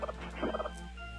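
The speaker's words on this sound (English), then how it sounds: "you gotta be careful with the chickens in this game" A chicken from Legend of Zelda: A Link to the Past gives a short burst of gobbling, clucking calls, heard clearly and alone.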